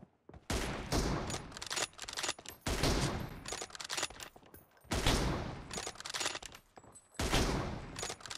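Loud, close gunshots from an M24 sniper rifle in PUBG Mobile, set during a team deathmatch. The sharp blasts come in separate bursts, each trailing into echo, and there is no talk.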